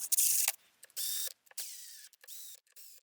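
An impact gun runs bolts into place on a Suzuki LTZ400 quad engine during a rebuild, firing several short, sharp bursts of whirring and rattling separated by brief silences.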